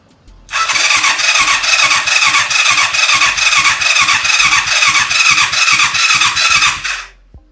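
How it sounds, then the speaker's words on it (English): A 1988 Yamaha FZ750 motorcycle engine cranks over repeatedly in a steady rapid rhythm for several seconds, loud and close, with a harsh whirring tone, then stops abruptly. "And we should hear some sort of engine turn."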